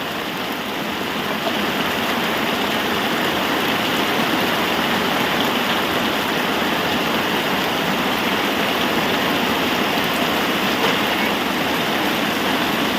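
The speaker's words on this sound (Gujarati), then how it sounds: "ધોધ ધોધમાર વરસાદ ચાલુ થઈ ગયા આપણે" A heavy village downpour in Botad roars as a dense, steady wash of rain, loud and unbroken from start to finish, with no voices.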